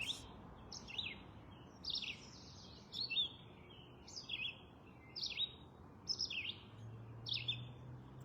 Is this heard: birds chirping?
yes